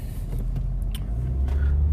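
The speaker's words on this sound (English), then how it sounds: "as you could probably hear, I'm in the car" Inside a car driving slowly along town streets, a low steady engine and road rumble fills the cabin, with light rattles and a passing hiss but no talking.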